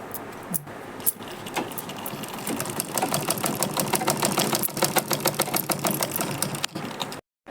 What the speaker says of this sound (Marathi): आता मध्ये शिलाई मारते मी